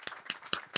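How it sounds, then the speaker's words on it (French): Four sparse, distinct claps from an audience at a French-language evening talk show, evenly spaced and fairly quiet, with a faint hum in between. "On applaudit très fort pour Garibou Fama."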